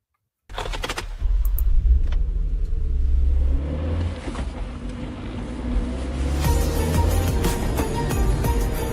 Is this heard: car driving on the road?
yes